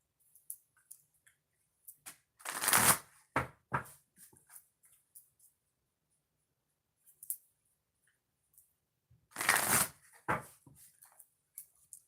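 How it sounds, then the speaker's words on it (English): Tarot cards shuffled by hand in two quick bursts of riffling and slapping, close up and alone against silence, with faint taps and handling noises in between. "2 shuffles for Sagittariuses"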